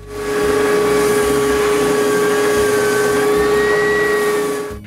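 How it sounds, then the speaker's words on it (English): Power sander working on wooden parts of a homemade wooden jointer, a steady loud whine with a constant tone held for nearly five seconds without a break. "The rest is done with the sander."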